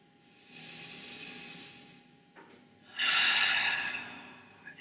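Two long, slow breaths during a beginner's whole-body stretch, a soft hissing inhale and then a louder, breathier exhale after a short pause, close and quiet.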